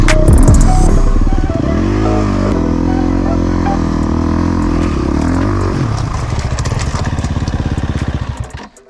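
A 2023 FX 350 dirt bike engine loud and close while riding, throttle rising and falling with rough, pulsing revs that fade out toward the end.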